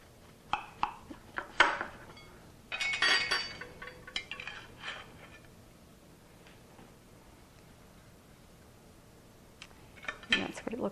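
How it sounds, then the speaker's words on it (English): Light clinks and scrapes as a knife cuts a slice of key lime pound cake on a plate, a few soft taps and a short sawing scrape, faint and close, with brief talk in the room. "I'm going to take this knife and just cut a slice"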